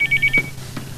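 A cellphone in a household drama rings with a quick run of repeated electronic tones, a few short chirps ending in a couple of softer pulses over a low background hum.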